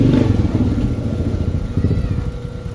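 A DIY carwash pressure pump's motor and head pump run steadily up close, a loud, rough mechanical drone with a rattling pulse, on a unit that is not drawing in or spraying water.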